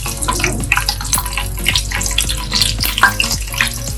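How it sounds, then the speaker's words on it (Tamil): Green chillies sizzle and crackle in hot oil as they are sautéed, with a continuous busy spatter and scattered clinks of utensils against the pan, close and fairly loud. "இப்போ 7 பச்சை மிளகா போட்டு வதக்கிக்குங்க"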